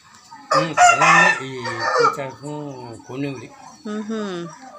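A fighting-breed rooster crows up close, several loud harmonic calls in succession, with clucking fowl between them.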